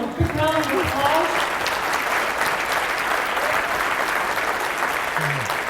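An audience at a PMI Great Lakes keynote gives a steady round of applause for the speaker, full and close throughout, with a voice speaking briefly over the clapping at the start and again near the end.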